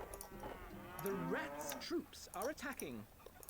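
Cows mooing in the Stronghold strategy game, several drawn-out bovine lowing calls in succession over a soft game backdrop, fairly close and clear with no talk.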